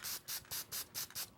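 Sealer applied with a small brush over gold paint on a painted fish eye for a largemouth bass lure, heard as six quick, even strokes of soft, close brushing rasp with brief pauses between them.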